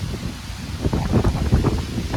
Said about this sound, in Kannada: ಆ ಎಟ್ಟ ಗಾಳಿ